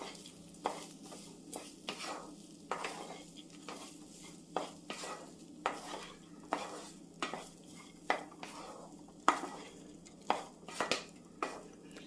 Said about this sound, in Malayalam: ഒരു മിനിറ്റ് ഒന്ന് ഇളക്കി കൊടുക്കാം. ആ നെയ്യിലൊന്ന് കിടന്നൊന്ന് ആ നെയ്യൊക്കെ ഒന്ന് പിടിക്കട്ടെ.